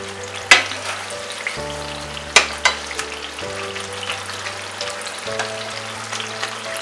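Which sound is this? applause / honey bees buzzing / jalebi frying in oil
jalebi frying in oil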